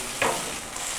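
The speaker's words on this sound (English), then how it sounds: "And you hear the sizzle. You cannot beat the sizzle." Bacon sizzles on a hot grill for a smash burger, a soft continuous crackling hiss with a brief louder spit near the start, heard close and alone.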